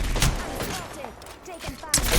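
Rapid gunfire in the video game Apex Legends comes as dense overlapping bursts of shots with bright impact and shell sounds, loud and continuous across a brief moment.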